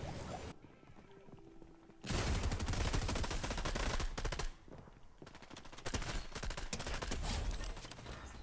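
Bursts of rapid SMG gunfire in the video game Fortnite, loud clattering volleys separated by short gaps, with no talking.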